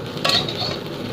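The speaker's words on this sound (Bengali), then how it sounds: "সোয়াবিনটা দেখো ভাজা হচ্ছে" Soybean chunks fry in a pan in a home kitchen, a steady soft sizzle with a brief scraping clink near the start.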